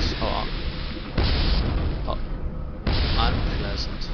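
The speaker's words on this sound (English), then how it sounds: "Oh, explosions." Explosions in the video game Quake 2 go off as a few sudden booming bursts with rumbling tails, loud and close, while a person talks over them.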